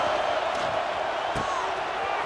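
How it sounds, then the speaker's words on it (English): Stadium crowd in a College Football 26 video game: a constant broadband roar fills the background, with a brief sharp thump near the middle and a commentator talking over it. "This crowd ready to make its presence known."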